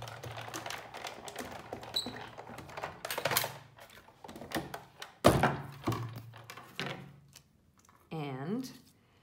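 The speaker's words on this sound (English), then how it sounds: "And then I'm going to put the top cutting pad on and run it through my Big Shot." Clunks, clicks and rattles of a Big Shot die-cutting machine as a stitched star die with a cutting pad is cranked through, a few louder thunks and a short squeaky grind near the end, with some speech nearby.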